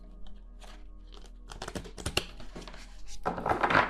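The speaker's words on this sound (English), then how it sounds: "One more shuffle, please." Tarot cards with a cardboard texture being shuffled by hand, a run of soft, dense riffling and flicking clatters that grow busier and louder toward the end, close up with no talking.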